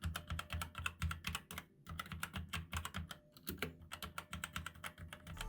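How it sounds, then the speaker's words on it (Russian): Rapid typing on a Motospeed CK108 mechanical gaming keyboard with black switches, a dense stream of sharp key clacks with brief pauses, close and steady, with no voices. "А теперь немного тайпинга."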